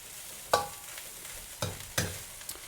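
Egg fried rice frying in a pan, with a soft, constant sizzle broken by a few sharp scraping stir strokes spaced irregularly, close and fairly quiet with no talking.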